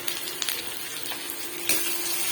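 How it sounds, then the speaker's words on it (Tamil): Fenugreek, mustard seeds and dried red chillies frying in hot oil, a faint continuous sizzle with soft crackles and small pops throughout a brief moment. "ஒரு 4 வெந்தயம், கடுகு, 2 வரமிளகாய் போட்டு நல்லா வறுத்துக்கலாம்."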